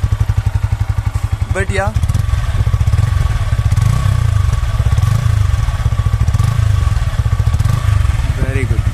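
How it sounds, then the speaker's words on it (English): A Yamaha R15 M motorcycle sits in neutral with its engine running, a steady mid-pitched idle that rises and falls in short revs, heard up close while someone talks briefly over it. "Yes, let's rev it a little. Look at the engine tone."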